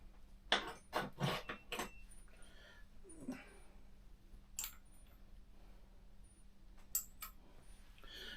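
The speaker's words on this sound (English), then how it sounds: "Put those screws over there in the screw pile." Small metal screws from an HPI Baja 5T RC car under repair are set down onto a screw pile, giving a few quick, faint clicks and clinks early on, then sparse soft taps in a quiet room.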